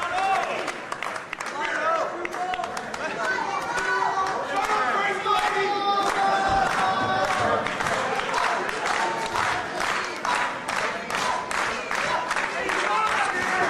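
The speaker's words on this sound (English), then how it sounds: "This crowd trying to rally behind Milano." A large pro wrestling arena crowd roars and cheers steadily throughout a match, loud and sustained, with rhythmic clapping building toward the end while a commentator talks over it.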